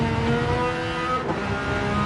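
A race car engine in a racing video game is held at high revs, a steady buzzing drone that runs for the whole stretch and stays loud and close, with no speech over it.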